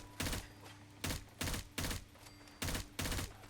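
Loud bursts of automatic rifle fire from the FFAR weapon mod in Fallout 4. Six separate short volleys ring out at a steady rhythm, close and sharp, with brief quiet gaps between them.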